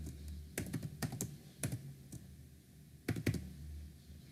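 Computer keyboard typing during a password change, several quick bursts of crisp key clicks separated by short pauses, close and clear in a quiet room.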